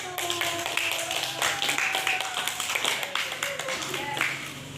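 Classroom of students clapping for a presenting group, uneven overlapping claps and taps under chatter and a few voices.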